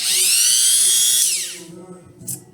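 A high-pitched power drill whirs loudly for over a second, then winds down, followed by a brief faint click.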